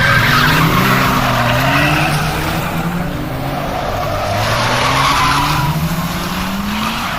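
Hot Wheels Lamborghini Urus die-cast toy car racing along a track in the dark, a steady rolling whir with rising and falling tones throughout, close and fairly loud, with no talking.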